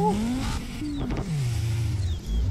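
A Dodge Viper ACR engine in video game footage, revving with rising and falling tonal pitch sweeps and a deep low rumble, loud and close, with no talk.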